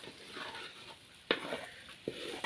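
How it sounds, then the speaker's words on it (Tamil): Masala and quail eggs stirred in a pan over a low flame, giving a steady soft sizzle with a couple of sharp scraping clicks from the stirring utensil. "கம்மியான தீலே தான் நம்ம வந்து மசாலா சேர்த்து நல்லா வந்து கலந்து விடணும்"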